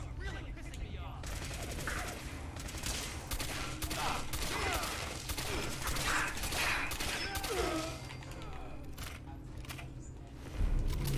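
Fallout 4 gunfire in a firefight, rapid bursts and single shots cracking repeatedly over about ten seconds at moderate level, with a louder blast near the end.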